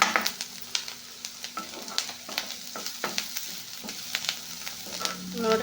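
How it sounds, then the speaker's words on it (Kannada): Vegetables fry in oil in a pan in a village kitchen, a soft continuous sizzle broken by repeated scraping stirs, fairly quiet and close with no talking. "ಇವಾಗ ಚಂದ ಫ್ರೈ ಅದು ನೋಡ್ರಿ"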